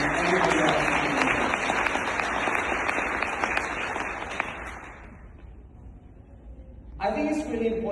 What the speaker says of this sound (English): please join me in giving a big round of applause to Tahmina, to Teresa, and Hamad